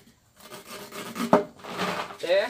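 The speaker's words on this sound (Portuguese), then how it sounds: "vai cortar até na metade do pneu aqui" A rubber tire is being cut from its edge toward the middle to make a tire swing, giving soft scraping and rasping strokes with a sharper crunch partway through, fairly quiet and close.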